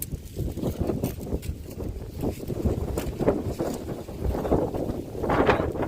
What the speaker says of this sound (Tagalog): Lakas ang hangin dito no.